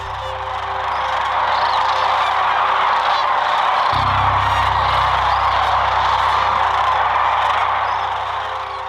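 Large flock of sandhill cranes landing to roost, a dense continuous chorus of rolling, overlapping calls, loud and steady, with a low rumble joining halfway through.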